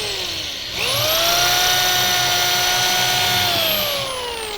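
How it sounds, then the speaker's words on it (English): A power drill with a piercing bit boring holes in wood spins up with a rising whine, holds a loud, steady high-pitched drone for several seconds, then begins to wind down. "on my drill, I'm using a piercing drill bit here"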